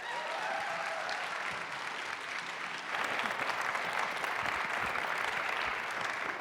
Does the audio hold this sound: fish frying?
no